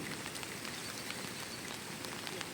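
Steady rain falls on a farm, pattering evenly on surfaces at close range, with scattered louder drops and no voices.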